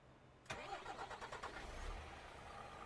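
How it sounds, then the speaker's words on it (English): A Volvo semi truck with a default engine starts in American Truck Simulator: a brief crank catches into a rumbling idle that settles steadily, with no talking. "let's go ahead and start up the truck here."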